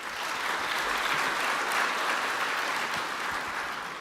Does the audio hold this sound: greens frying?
no